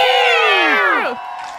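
Aliens cheering at a rock concert in a told story come through as a short burst of several high voices whooping together, falling off quickly after about a second.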